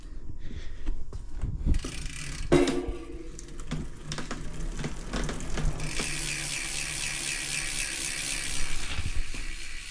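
Rapid mechanical ratchet clicking from a freewheeling DT Swiss ratchet rear hub on a mountain bike, a busy buzzing tick that shifts pitch partway through, with a few knocks and handling noises.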